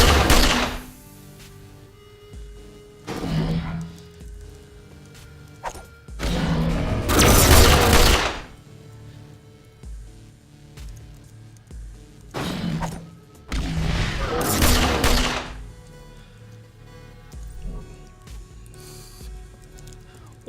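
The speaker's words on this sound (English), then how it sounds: "And then just start tossing grenades in here." Grenades blow up one after another in The Pit, a video game, landing as loud booming bursts in separate volleys spaced a few seconds apart, with quieter low rumble between the blasts.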